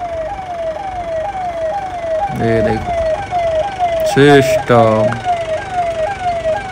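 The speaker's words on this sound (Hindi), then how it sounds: "सायरन बजा के हूटर मार के हुई हूँ।" A loud vehicle siren wails in a rapid repeating sweep, broken by several blaring hooter blasts, with someone talking over it.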